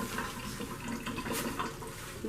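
Water runs steadily from a tap while dental instruments are rinsed at a sink in a sterile processing area, a soft continuous splashing hiss at moderate distance.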